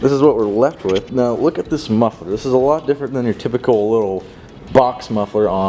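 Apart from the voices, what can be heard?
No everyday noise stands out behind the speech.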